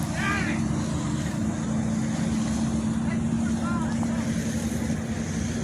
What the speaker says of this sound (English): The big boat is coming.